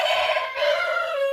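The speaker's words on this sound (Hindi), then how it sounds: "मुर्गा पालन यहाँ भी हो रखा है।" A rooster crows once in a long, strained, drawn-out call close by at a village poultry farm, loud and alone.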